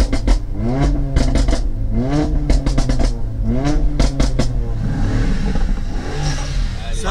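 A Mercedes-AMG A45 engine revs hard several times up close among supercars, each loud rising-and-falling sweep followed by a purring idle, and no one speaking over it.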